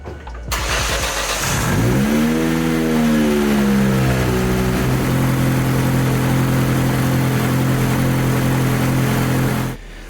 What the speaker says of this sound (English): I'm actually going to start the rig up, make sure it doesn't have a misfire or anything goofy.